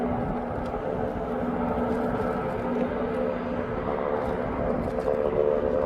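Ryanair jet taxiing at East Midlands Airport, a steady broad engine roar with a low tonal hum holding at moderate distance throughout, no voices.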